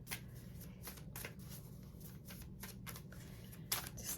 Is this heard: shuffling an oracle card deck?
yes